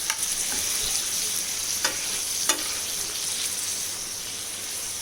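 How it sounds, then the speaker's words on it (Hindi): Masala with chicken tikka boti fries on a tawa, a steady quiet sizzle with a few faint scrapes and clicks of stirring, close and even, with no talking. "ये देखिए इस तरह से मसाला जो है भुन जाएगा।"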